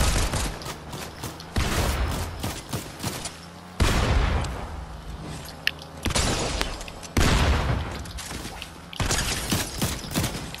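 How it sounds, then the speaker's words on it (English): Gunfire in the video game Fortnite comes from all directions as dense, loud bursts of shots and booms that keep overlapping. "There are shots coming at you from all over the place."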